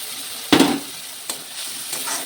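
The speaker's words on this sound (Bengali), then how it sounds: "মশলাটি একটু কষিয়ে নেব।" Ginger, cumin, coriander, turmeric, red chili powder and chili powder sauté with fried onions in a pan, giving a soft steady sizzle broken by three brisk stirring scrapes.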